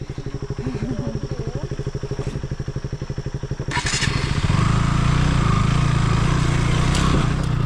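A motorcycle engine idles with a steady pulsing chug, then revs up louder and rougher as the bike sets off along a muddy road near Suryachaur, Nuwakot, running close and continuous with no talk.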